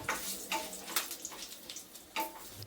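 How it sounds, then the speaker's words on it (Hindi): Whole spices and two bay leaves crackling in hot oil for a vegetable dum biryani: a faint, soft sizzle with a few light pops and hisses and no talking. "2 तेज़पात ऐड कर लेंगे और थोड़ा सा क्रैकल होने"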